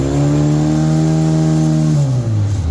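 Car engine revved steadily while checking low oil pressure, a loud sustained harmonic drone that drops in pitch near the end as the throttle eases, with no talk over it.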